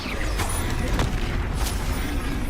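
Bombarda and Confringo explosion spells in the video game Hogwarts Legacy, sharp booming bursts landing about once a second over a rumbling, noisy battle bed, with faint shouting mixed in.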